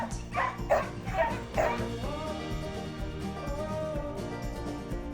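Samoyed sled dogs at a breeding kennel barking and yipping in a quick burst of overlapping calls, then softer whines under ongoing background noise.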